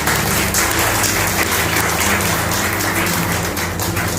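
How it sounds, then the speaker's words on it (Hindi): A church congregation claps loudly for the pastor at a Christian gathering. The clapping is dense, continuous and close, mixed with a droning musical hum underneath. "पास्टर जी के लिए जोरदार तालियां बजाएं,"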